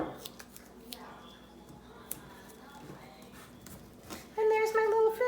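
Scissors snipping paper shapes for a tessellation craft, a few soft, quiet cuts spread through the stretch, with a brief louder rustle near the end.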